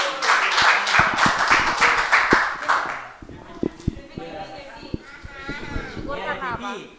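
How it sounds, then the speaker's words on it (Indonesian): A youth church audience in Semarang claps in quick, lively bursts for about three seconds, then the clapping fades out and people begin talking close by, with a few isolated taps. "Mantap, tepuk tangan."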